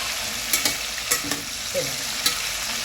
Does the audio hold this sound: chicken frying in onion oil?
yes